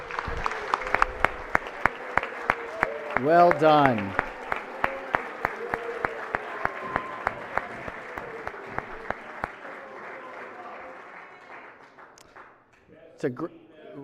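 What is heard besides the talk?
applause in the Senate chamber for students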